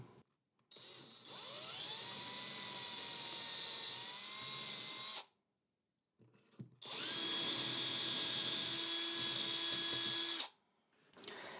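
A power drill whirs at a steady high pitch for about four seconds while drilling holes with a drill guide on a T-square, stops, then runs again slightly louder for another three seconds before cutting off.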